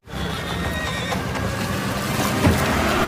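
Horses neigh and whinny in a film scene, a loud, continuous, dense mix of calls over rough background noise with faint hoof clatter, no talk.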